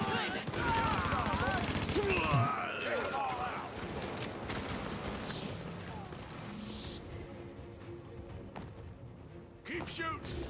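Dense, continuous gunfire in a cooperative shooter game, rapid bursts layered with heavier booms and crashes that fill the whole clip, loud and close, with voices talking over the action.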